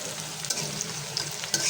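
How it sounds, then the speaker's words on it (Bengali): Dried chillies frying in a wok give a soft, steady sizzle with occasional stirring scrapes, fairly quiet and with no voices. "আমি তো এই কড়াইতে শুকনো মরিচটাও ভাজবো"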